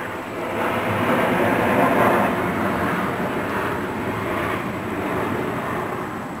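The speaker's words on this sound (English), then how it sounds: "Let's wait for this plane to go over." An airplane passes overhead outside near a backyard deck project, a loud, broad roaring rumble that builds quickly, peaks, then slowly eases while staying steady, with no talk over it.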